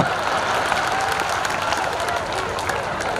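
An audience at a devotional dayro folk gathering during a Mahavishnu yagna in Randheja claps steadily, a dense even wash of applause mixed with crowd murmur filling the whole stretch without pause.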